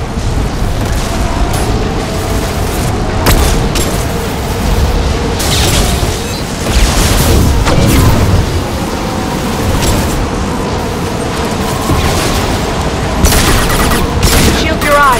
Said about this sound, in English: Watch out, flashbangs!